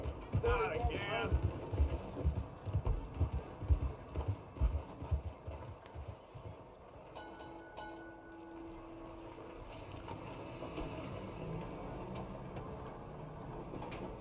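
Horse hooves clip-clop at a walk in Red Dead Redemption 2, with a rhythmic, fairly close plodding for the first few seconds that fades under mechanical game ambience and a speaking voice.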